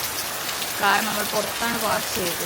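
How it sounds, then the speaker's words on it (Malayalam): Heavy rain drums steadily on the roof and windows of a car parked outside on a road trip to Coorg, a constant near hiss with a person talking over it. "നമ്മൾ ഇറങ്ങാറാകുമ്പോൾ നല്ല അടിപൊളി റെയിനാണ്, ഹെവി റെയിനാണ്"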